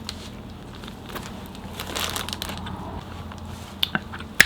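A close-up bite into a Jimmy John's Totally Tuna sandwich filled with tuna salad, cucumber, lettuce and tomato, giving a soft crunch and squishy chewing, quiet and brief with a few sharper clicks near the end.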